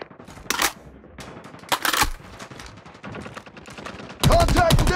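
Automatic fire from a deployed sentry gun in Call of Duty Mobile, short sharp bursts in separate clusters and then a sustained loud rattle at the end, with game voice lines in the mix.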